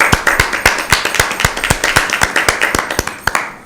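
Claps from a small group at a school Bible quiz, cheering a team's correct answer, loud and close, with sharp individual hand claps in an uneven rhythm that thin out toward the end.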